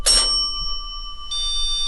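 A REM pod alarm goes off aboard a submarine during a paranormal investigation, giving a bright ringing electronic tone that sounds twice, a sharp burst at the start and a sustained tone resuming near the end.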